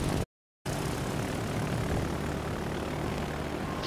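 Carrier aircraft engines in World of Warships Legends drone as a loud, continuous propeller roar, briefly cut to silence near the start before resuming steadily, with no talk over it.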